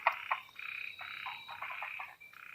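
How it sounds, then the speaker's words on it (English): Chinese tree frogs call at night by a forest pond in Yangmingshan National Park, Taiwan, in rapid, nasal trills and croaks, several overlapping in quick pulsing bursts, fairly close and moderately loud. "Chinese tree frogs."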